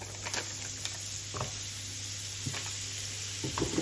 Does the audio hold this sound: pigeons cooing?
no